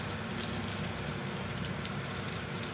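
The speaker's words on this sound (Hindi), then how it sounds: "अब हम मिर्चें तेल में फ्राई कर रहे हैं" Green chillies fry in hot oil with a dense, continuous crackling sizzle, steady and close throughout and heard alone with no talk.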